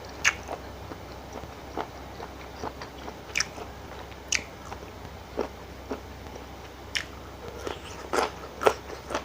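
Crunchy chewing of apple snails in a spicy Thai-Lao pounded salad, irregular bites and crackles close to the mic, repeating throughout with no talking.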